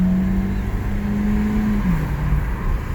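A 2014 Ford Escape SUV with a small EcoBoost four-cylinder pulls away hard from a standstill, a steady droning engine note rising slightly in pitch before a brief upshift dip, heard from inside the cabin.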